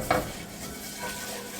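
Oil and flour get whisked together in a hot pan, starting with a quick metallic clink and then a soft, steady, sizzling swish up close.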